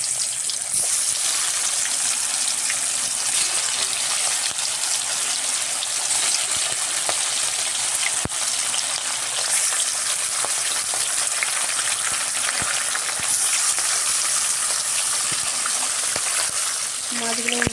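Roopchand fish frying in hot oil gives a loud, continuous sizzle and crackle that runs unbroken throughout, close and dense.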